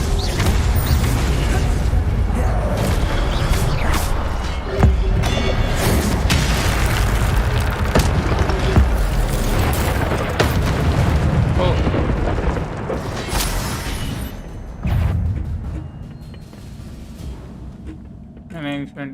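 The Incendio fire spell in Hogwarts Legacy gives a series of loud booming blasts and crackling bursts amid combat noise, dense at first and then thinning out toward the end.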